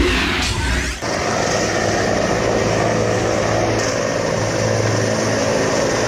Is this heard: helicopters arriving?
yes